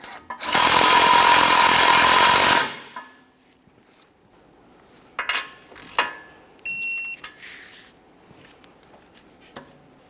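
Outer tie rod end nut being snugged on a 2015-2019 Subaru Outback: a loud burst of a power tool for about two seconds, then scattered metallic clinks, clangs and rubbing of tools close by.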